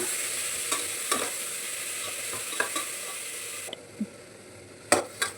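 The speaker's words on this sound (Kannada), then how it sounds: "ಅವರೆಕಾಳು ಬೇಳೆ ಹಾಕ್ತಾಯಿದ್ದೀನಿ" Field beans (avarekalu) roasting in a hot pan with tempering, a continuous close sizzle with periodic scraping strokes of a spoon; the hiss drops noticeably partway through as the heat or pan changes.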